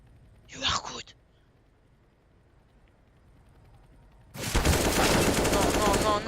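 Automatic AK rifle fire in Counter-Strike: Global Offensive, a short burst early on and then a loud sustained volley of shots filling the final two seconds, with a brief quiet gap between.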